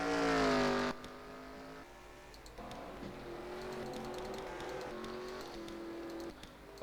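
A VW Golf race car circles Sonoma in a 24-hour endurance race, its engine loud and close at first with a strong harmonic drone, then settling into a steadier, more distant running note with shifting pitch.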